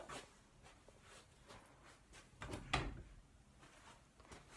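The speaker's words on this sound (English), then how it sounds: "I can't get the door closed." A normal closet door in a convention hotel suite is pushed and jostled as it fails to shut, giving a quiet series of soft knocks and rattles with one sharper thump near the middle.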